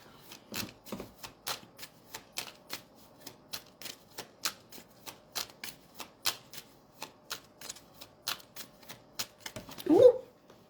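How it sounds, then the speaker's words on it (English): A deck of cards is handled and dropped, tumbling out: a steady run of crisp, evenly spaced flicking clicks, ending with a louder clatter near the close. "Too many cards fell out"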